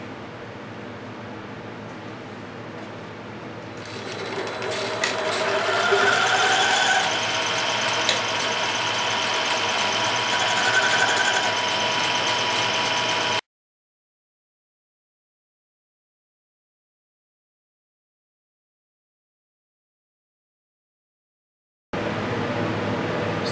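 Lathe drilling a hole for a dowel pin in a home shop: a steady mechanical whir and grinding hum that rises in intensity for several seconds, then cuts to silence before resuming.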